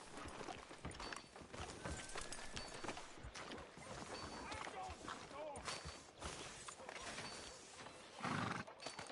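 Horse neighing and clip-clopping hooves in Red Dead Redemption 2 Online, mixed into a busy game soundscape under ongoing voices, with a louder burst near the end.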